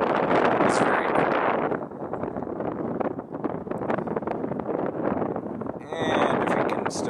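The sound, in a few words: wind blowing over the microphone on a bridge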